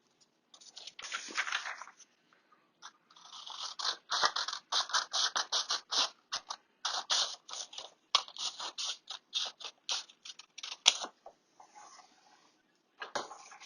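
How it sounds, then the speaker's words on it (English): Scissors snipping through origami paper along a folded crease, a rapid run of crisp, close cuts in irregular bursts with brief pauses, loud and alone. "you're going to take your scissor and you're going to cut along this line"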